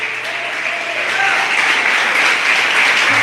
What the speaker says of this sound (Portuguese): Aplauda ao Senhor com fé.